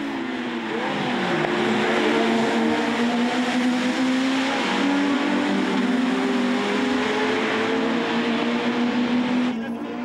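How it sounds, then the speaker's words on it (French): Mitjet race cars crossing the finish line at the Charade circuit, a sustained loud engine drone with shifting whining pitch as the cars pass close, with no talking. "Patrice Thiva déchaîné le passe et revient dans les roues de Lionel Mazard au moment de franchir la ligne d'arrivée."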